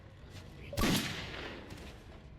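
A single loud gunshot in the Silent Hill video game cracks out sharply, then decays over about a second into a faint lingering tail. No talk.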